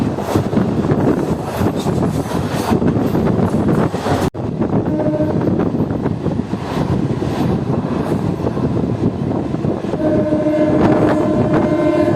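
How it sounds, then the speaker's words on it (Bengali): An Asansol–Bardhaman MEMU passenger train pulls out of Durgapur station after a short halt, a loud continuous rumble of wheels and carriage with wind buffeting the microphone and rising metallic tones as it picks up speed. "প্রায় 2 মিনিট হল্ট দেওয়ার পর আমাদের ট্রেন ছেড়ে দিল"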